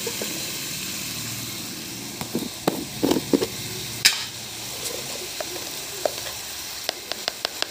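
Thinly sliced, washed potatoes frying in a pan, a steady soft sizzle with scattered clinks and scrapes of stirring at a close distance, no talk.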